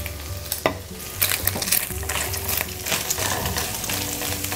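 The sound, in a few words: sliced mushrooms and green onions sautéing in a pan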